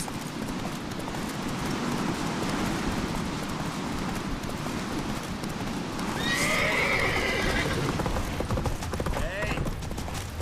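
A horse in the video game The Witcher 3 gallops with rhythmic hoofbeats, then lets out a loud whinny partway through while someone speaks over the action.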